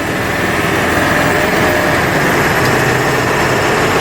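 A 2000 Ford F350 Supercab with dual rear wheels and a 7.3 liter Powerstroke diesel climbing a hill at full throttle, heard as a loud, constant engine roar from close range with no breaks.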